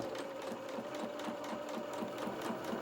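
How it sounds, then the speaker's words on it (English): Sewing machine running steadily as it stitches a quarter-inch seam around a fully lined doll jacket with tails, a fast even mechanical whir with regular needle clatter, close and continuous with no talk. "you're going to sew all the way around with a quarter of an inch seam allowance"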